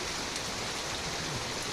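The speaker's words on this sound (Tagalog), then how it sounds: "Umuulan dito, oh." Steady rainfall in Bicol, an even, dense hiss of drops on surfaces, soft and continuous throughout with no talk.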